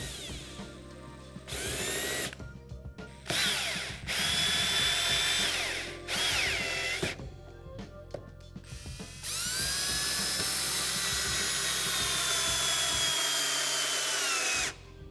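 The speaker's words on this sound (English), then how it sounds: "I do want to countersink this a little bit" A power drill countersinks a screw hole in wood for a miter gauge shooting board, whining in several short close bursts separated by pauses, then one long sustained run.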